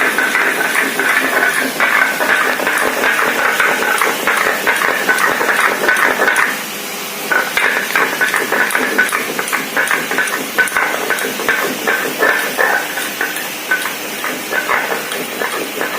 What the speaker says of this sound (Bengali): বন্ধুরা শিলনোড়ায় বাটছি।